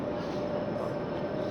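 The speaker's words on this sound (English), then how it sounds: "I've made it onto the light rail train." Light rail train riding through Jerusalem toward the Old City, a steady interior rumble and hum with a faint tonal whine, continuous and moderately loud throughout, no voices.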